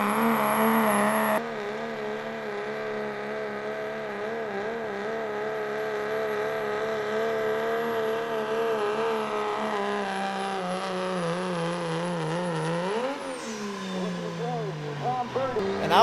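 A pulling truck roars down the track at a July 2024 truck and tractor pull at Weakland's Mechanic Shop, its engine holding a loud sustained drone that wavers in pitch, then surges and drops near the end while an announcer talks over it.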